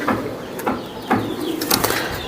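Racer pigeons in a small group at a seller's, giving soft coos and brief wing flaps in repeated short bursts close by.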